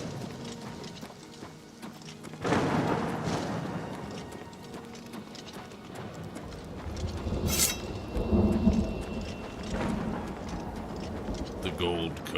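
Thunder from a red lightning storm in the Elder Scrolls Oblivion video game rolls and rumbles loudly over steady rain, with a sharp crack partway through, a trotting horse's hooves and faint talk underneath.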